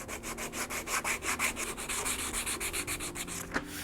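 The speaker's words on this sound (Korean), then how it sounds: "사포에 물을 묻혀 물갈기를 시작한다." Water-soaked sandpaper wet-sands a layer of lacquer powder filled between inlaid lacquerware patterns, a close, rhythmic scraping of quick back-and-forth strokes at an even pace, with no voices.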